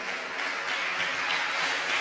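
An audience at a Fallas 2017 presentation of municipal projects applauds with steady, dense clapping that holds at an even level throughout, with no voices over it.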